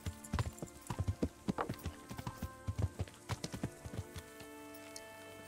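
In the video game Kingdom Come: Deliverance, horse hooves clop in a quick, steady rhythm, close and distinct, over a faint tonal background that fades as the steps slow and stop.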